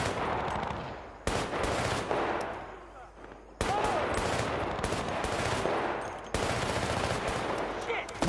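Rapid bursts of automatic gunfire from the shooter game Battlefield: Bad Company, several loud dense volleys separated by brief lulls, with a voice talking faintly underneath.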